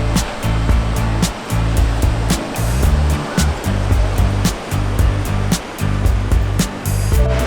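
Ocean surf rolls onto a beach near Byron Bay as a loud, steady roar with gentle surges, heard alone without talking.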